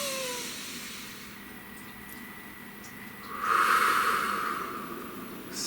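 A slow, deep breath drawn in and released, soft and close, swelling into a louder hissing exhale over a faint background drone.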